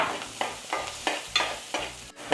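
Ginger, green chillies and onions sizzle in hot, smoking oil in a pan, with a spoon stirring in a steady rhythm of about six scraping strokes, close and clear over the continuous frying hiss.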